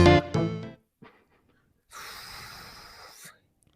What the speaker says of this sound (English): Why are you breathing like that?